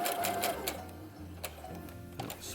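A sewing machine runs in steady bursts as it stitches jumpsuit fabric, its whirring motor and needle clatter close and loud, pausing briefly midway before running again.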